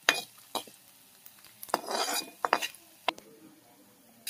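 Ginger pieces frying in a pan at home, with a spoon or spatula scraping and clinking against the metal in irregular strokes over a faint, quiet sizzle.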